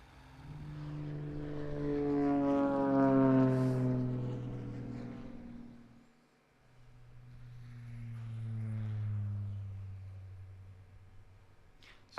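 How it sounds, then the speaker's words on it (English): A propeller plane with a 260 kW electric engine and its twin with a combustion engine pass one after the other: two rising-and-fading flybys with a brief dip between them, each holding a strong droning propeller hum. "a comparison between the big plane that I showed you on the right that has a 260 kilowatt electrical engine in it and its twin with a normal combustion engine"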